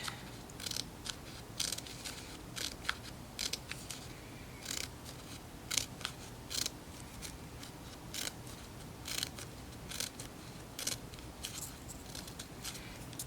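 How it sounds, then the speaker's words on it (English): Scissors snip through paper again and again, cutting fringe for a homemade piñata, a steady run of short crisp cuts close to the microphone with brief pauses between strokes. "You just keep cutting your fringe."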